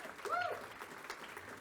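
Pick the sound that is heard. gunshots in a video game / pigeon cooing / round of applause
round of applause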